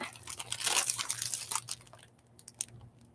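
A plastic bag crinkles and crunches up close in a dense burst of rustling, then eases into sparser scattered crackles with faint background hum.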